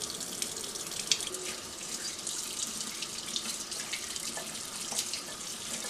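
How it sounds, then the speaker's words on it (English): Salted codfish (bacalao) being rinsed under a cold running kitchen tap, a steady close splashing hiss of water over the fish and into the sink throughout, with small clinks and drips, no talking. "Rinse the bacalao in cold water to remove the surface excess salt"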